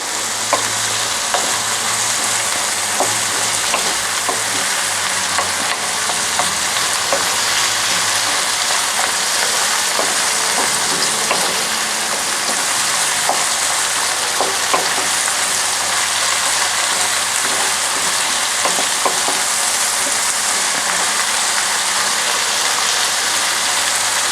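Hungarian chicken paprikash mixture sizzles and fries steadily in a pan while being stirred, a continuous close hiss with scattered scraping and crackle throughout, no talking.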